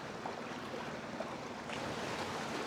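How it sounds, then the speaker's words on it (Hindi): Sea water washes against the rocks of the black coast at Kala Chapra, Balochistan, producing a soft, continuous surf hiss with faint swells and light wind, fairly distant and low in level. "पानी यहीं पर अंदर दाखिल हो रहा है, ये देखिए।"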